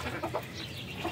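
Chickens cluck in a home coop beside the feeder where the birds roost, a close, steady mix of soft clucks and calls filling the whole short moment.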